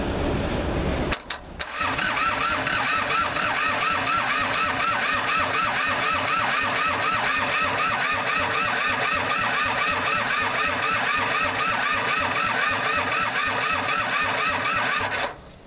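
Kubota L2500 diesel tractor engine cranking over and over with a fast, even rhythmic chug, loud and close, after a short gap at the start, without catching.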